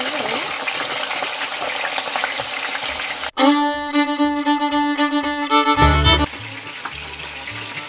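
Potato chips fry in hot oil: a steady, fizzing sizzle runs close by. It is briefly interrupted by a loud stretch of humming tonal sound with low thumps, then the bubbling sizzle carries on.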